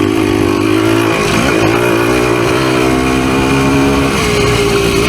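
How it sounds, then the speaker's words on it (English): A Husqvarna PE250 dirt bike engine revs hard on a woodland trail, a loud, continuous two-stroke buzz that rises and falls in pitch as the rider changes throttle, close to the microphone with no speech. "you gotta have them revs up to get third gear back here"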